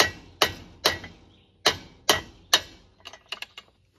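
Light hammer taps on the top of a bolt on a Kuhn GMD 600 GII disc mower during a blade change: six crisp metallic strikes at a steady pace, followed by a quick flurry of smaller taps.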